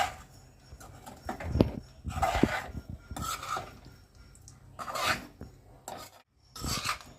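Boiled baby potatoes are stirred into a spicy garlic masala with oil in a pan for Kathiyawadi lasaniya batata. Close, rasping scrapes and rubbing strokes come in uneven bursts separated by short pauses.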